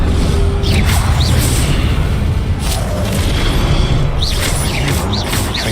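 Casting the Incendio fire spell in Hogwarts Legacy, a loud dense roaring burst of flame rumbles continuously for several seconds, with whooshing swells and crackling mechanical clatter layered over the blast.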